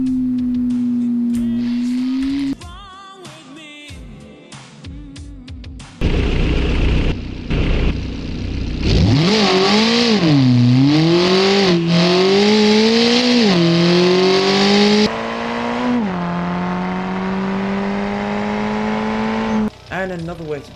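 Simulated car engine in the driving game BeamNG revving up and down repeatedly, with pitch swelling and falling in waves after a brief rougher section, loud and steady with no talking.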